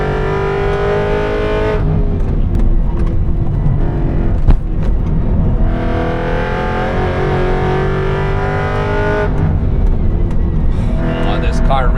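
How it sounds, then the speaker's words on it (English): A track-built Aston Martin Vantage V8 race car engine roars loudly close up at the Nürburgring, its pitch climbing through revs, dropping at gear changes and climbing again, with a voice shouting briefly. "this car really invites you to go fast. So nice. The noise."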